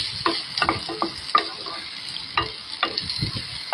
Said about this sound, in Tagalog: ginigisa ko po siya